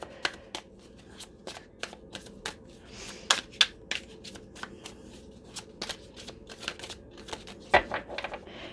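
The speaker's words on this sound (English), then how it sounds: "So let's just mix the cards." Tarot cards are shuffled by hand in a quiet room, giving a string of crisp, rapid riffling snaps and soft slaps in an uneven rhythm, close and fairly faint.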